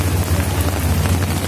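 Heavy rain pouring steadily over the tents on the Arafah plain during the Hajj pilgrimage, a loud, dense, continuous hiss and patter with no voices.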